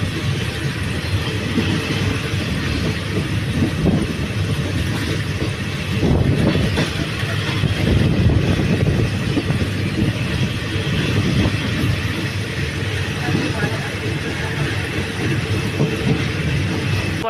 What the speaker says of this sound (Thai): ออกจากสานีตรังเรียบร้อยครับขบวนหนึ่งหกเจ็ดนะครับ